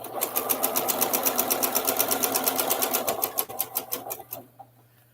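A sewing machine stitches seams in a fast, even run of needle strokes, close and loud, slowing briefly before stopping near the end.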